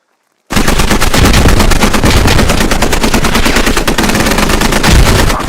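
Sustained, loud automatic gunfire from a live-fire training course in the Squad video game, dense rapid bursts running almost without a break after a short silent start.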